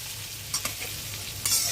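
Sliced brinjal with turmeric and salt sizzling in hot oil over a strong gas flame, a constant hiss broken by brief scraping stirs, nobody speaking.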